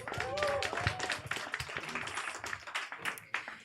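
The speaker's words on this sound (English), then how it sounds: "Round of applause for Cool Comedy Hall for hosting us." Comedy open-mic audience in a bomb shelter claps in a small room, a fairly faint, uneven patter of hands with voices and cheers mixed in throughout.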